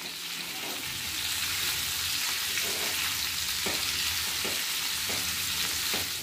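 Baby potatoes fry in a pan with a steady loud sizzle, while a utensil stirs them with soft periodic scrapes and knocks; no one talks.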